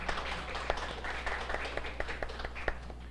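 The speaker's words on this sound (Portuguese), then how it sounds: "Uma salva de palmas para ela, gente." Scattered audience clapping at an event, individual claps popping over a steady low hum, moderately faint and sparse rather than a full ovation.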